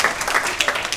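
A short burst of scattered hand claps from a small audience at a martial arts belt test, a few quick separate claps close by with no voices.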